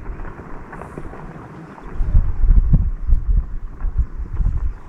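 A landslide on Mount Rinjani rumbles far off: a low, rolling roar swells after the first couple of seconds and keeps churning, mixed with wind on the microphone.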